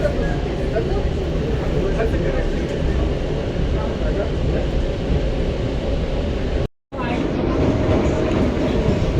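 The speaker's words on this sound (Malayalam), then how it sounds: "ട്രെയിൻ സ്പീഡ് എടുത്ത് തുടങ്ങി." A passenger train runs on the Banihal to Srinagar line through snowy mountain country, its steady rumble and rattling wheels filling the space up close with a brief cut-out, and voices talk faintly over the noise.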